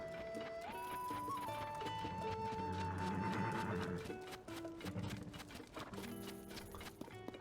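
Clip-clop of horse hooves and a brief whinny in Zelda: Tears of the Kingdom, steady hoofbeats running over game music with sustained tones and plucked notes, continuing throughout.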